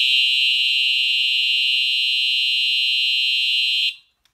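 A Simplex 2099 fire alarm sounds continuously after its break-glass pull station is pulled, a loud steady piercing tone holding unbroken for about four seconds before cutting off abruptly.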